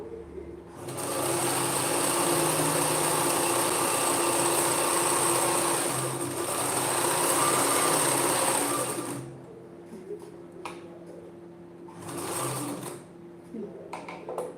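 A sewing machine stitches a blouse in long, loud continuous whirring runs, pausing and restarting with shorter bursts near the end.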